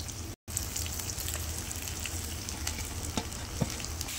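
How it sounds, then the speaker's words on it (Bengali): Onions frying in a pan with garlic and green chilies give a dense, continuous sizzle close by, with occasional light pops. A brief cut to silence comes near the start, and no one speaks. "এখন আমি পেঁয়াজগুলো লাল করে ভেজে নেব।"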